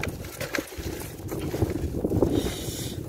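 Gusty wind buffets the microphone with low rumbling thumps and rustling, uneven and close, without clear speech.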